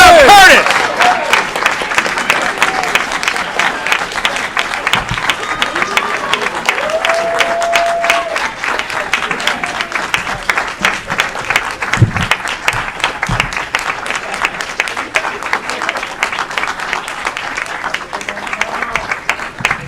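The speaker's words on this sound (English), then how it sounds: "Keep that applause going." Audience applause at a city volunteer of the year award ceremony, a dense sustained clapping that is loud and close, with voices and brief cheers mixed in.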